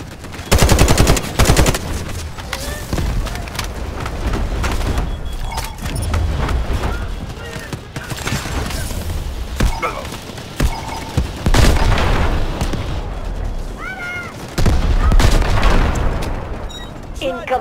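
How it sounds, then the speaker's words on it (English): Artillery barrage and gunfire in the video game Delta Force: Hawk Ops: loud repeated booming impacts mixed with rattling automatic fire, continuous and intense, with brief radio-style voices in between. "Artillery ready for barrage."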